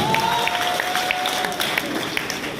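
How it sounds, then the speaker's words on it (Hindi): Audience clapping at a Hindi talk, a dense spread of hands with a faint tone and some voices mixed underneath, steady and fairly loud across the short stretch. "एक बार तालियां बजा दो उस बीवी के लिए"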